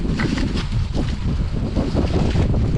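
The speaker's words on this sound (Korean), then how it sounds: "바람 많이 부네" Strong gusty wind roars steadily outdoors on a mountain peak during an autumn foliage hike, buffeting the microphone with loud low rumble throughout.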